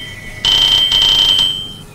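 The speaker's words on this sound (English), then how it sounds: "it was like the phone was ringing for the second time during my LP" A phone rings with a loud, shrill electronic trill in two quick bursts, close and clear, then fades out into quiet.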